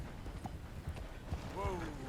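Horse hooves clip-clop in a quick, irregular rhythm in the video game Red Dead Redemption 2, faint and close, mixed with some game sound and a short tonal cry near the end.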